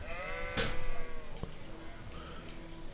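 A sheep bleats once, fairly close, in the video game Kingdom Come, followed by a short thud and quiet ambient background.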